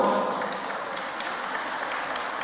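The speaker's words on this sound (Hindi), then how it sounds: "एक बार इन सब बच्चों को ताली बजाकर धन्यवाद दो" Audience applause thanking a group of children at a stage event, a dense, steady wash of clapping that starts strongest and holds evenly without voices.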